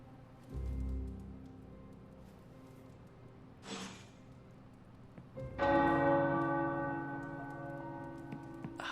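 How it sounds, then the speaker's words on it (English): Large tower bells toll in slow, separate strikes in a video game, each ringing out and fading over a soft, steady background hiss. "The tower bells are ringing."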